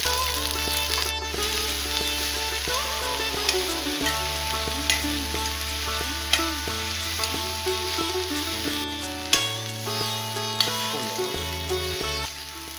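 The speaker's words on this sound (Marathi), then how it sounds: "कढईत लाकडी घाण्यावरचा तेल घेऊन कांदो बदामी होईसर भाजूया" Onion fries in wood-pressed oil in a wok with a steady, busy sizzle close by, broken by intermittent scraping and stirring clicks, with no one speaking.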